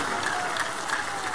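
A brief burst of steady clapping from a church congregation during a service, dense and sustained, with no pause.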